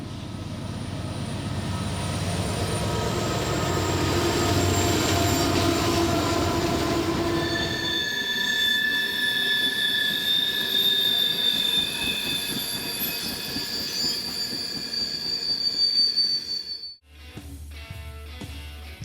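A freight train led by heritage conversion locomotive 4002 passes, starting with a loud diesel engine roar that gives way to rolling wagons with high wheel squeal, then clattering to a close.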